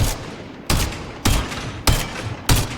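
Five evenly spaced single gunshots from a weapon fired on a shooting range in Spectre Divide, each a loud, sharp crack with a short decaying tail, alone with no talk.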